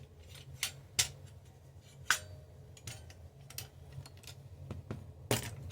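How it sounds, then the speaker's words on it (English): Snipping cuts on a custom IH toy tractor model part, sharp scissor-like clicks spaced irregularly over a low steady hum, close and fairly quiet. "So now we gotta cut this off, nice and sloped."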